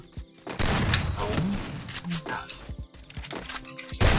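Rapid bursts of video game gunfire crack repeatedly over ongoing talking, with a few heavy thuds between shots.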